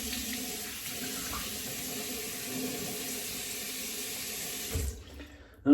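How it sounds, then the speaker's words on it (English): Water runs steadily from a tap while alum is rinsed off, a continuous close splashing flow that stops abruptly near the end. "let's rinse off the alum."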